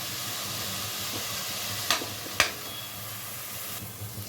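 Ingredients for Guntur gongura chicken curry fry in a pan with a steady, gentle sizzle, marked by two sharp spatula taps against the pan in the middle.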